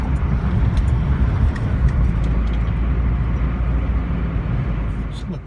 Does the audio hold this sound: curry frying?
no